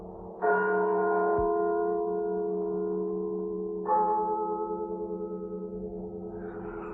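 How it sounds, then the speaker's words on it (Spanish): Church bells tolling on the night of the dead, two slow, ringing strikes that hum and fade between blows, with no voices. "el doble de las campanas"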